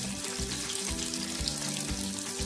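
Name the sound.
onion frying in hot oil in a pan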